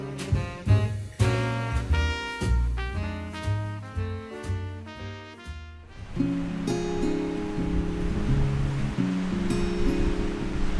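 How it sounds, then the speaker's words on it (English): Steady roaring wind rushes continuously outside in early morning in rural Sri Lanka, with gusty swells, after a stretch of music with plucked and struck notes. "it is incredibly windy outside"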